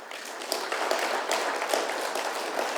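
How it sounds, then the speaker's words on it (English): A conference opening-ceremony audience claps steadily for about three seconds, a dense even patter of many hands with no voices over it. "I want you to clap if that's what you're doing"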